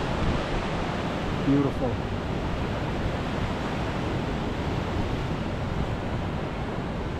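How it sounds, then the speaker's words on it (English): Ocean surf breaks along Imperial Beach in San Diego, California, making a loud, continuous roar mixed with wind buffeting the microphone. A voice briefly speaks over it. "Look at the surf right here."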